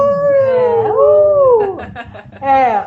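Women howl at the moon like wolves in long, loud wavering howls, one voice after another, with a few yips and overlapping voices near the end. The voices imitate the sound.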